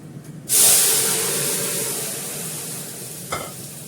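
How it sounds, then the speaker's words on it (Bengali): Fennel seeds hitting hot oil as tempering for a raw urad dal: a sudden loud hissing sizzle that bursts in, then slowly fades, with a small clatter near the end. "কাঁচা বিউলির ডাল করছি বলে মৌরি ফোড়ন দিচ্ছি"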